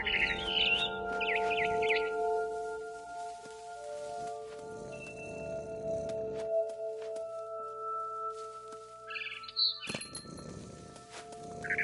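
A barn swallow returning to its nest, heard as bright high chirps and tweets in short clusters at the start and again near the end, over a steady soft background hum.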